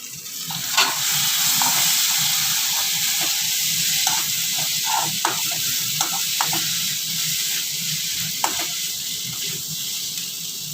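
Onion and garlic frying in a pan for a chicken curry, a continuous bright sizzle and hiss with scattered stirring clunks, close and without talk.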